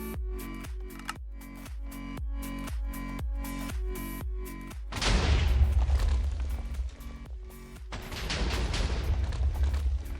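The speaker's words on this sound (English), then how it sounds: "some of your TNT is getting split, and you're only landing 1 TNT per shot" Minecraft TNT cannon firing in a factions raid: a rapid series of evenly spaced booming shots, then two heavier, sustained blasts with rumbling explosion noise, loud and close with no talk.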